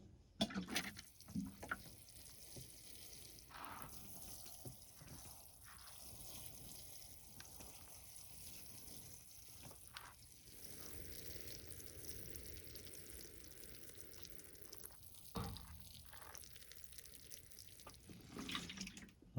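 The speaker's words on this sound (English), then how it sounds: "Now let's water both of these pots up." Water pours from a tap or hose into potted Chinese elm bonsai after repotting and pruning, a soft, continuous trickle with short breaks and a few louder splashes.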